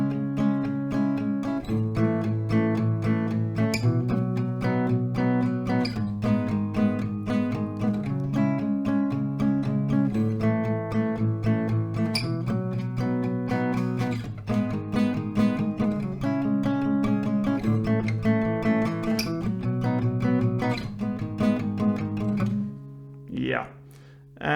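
Steady, brisk acoustic guitar strumming with a repeating chord rhythm, played close and evenly throughout, fading at the end.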